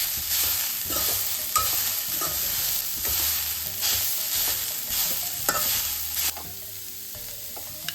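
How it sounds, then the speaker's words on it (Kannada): Carrots frying in ghee in a pan for carrot halwa give a steady, loud sizzle, with repeated stirring scrapes throughout and a brief lull near the end. "ಸ್ವಲ್ಪ ಫ್ರೈ ಮಾಡ್ಕೊಳ್ಳೋಣ."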